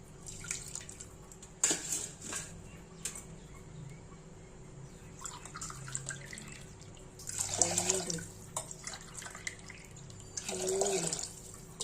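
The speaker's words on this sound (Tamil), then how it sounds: "அஞ்சு டம்ளர் தண்ணி ஊற்றணும்" Water poured in a few separate bursts into a cooking pot for venpongal, splashing briefly and fairly close, with quiet gaps between pours.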